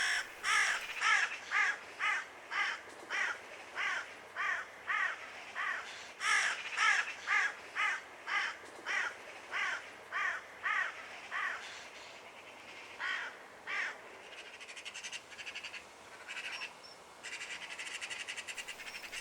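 Harsh, rasping magpie calls repeat in a steady rhythmic series, several magpies chattering at moderate distance with short gaps between calls.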